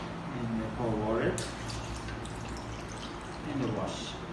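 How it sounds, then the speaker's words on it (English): Water is poured over soaked clams to rinse them, with a faint splashing trickle and a few drips under a speaking voice. "and pour water"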